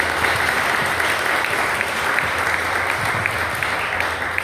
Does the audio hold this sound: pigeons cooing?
no